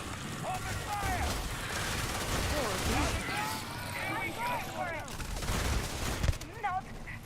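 Gunfire crackles in the video game Starfield, scattered shots under a dense wash of mechanical rumble, with voices shouting and chattering over the fight and a sharp louder burst near the end.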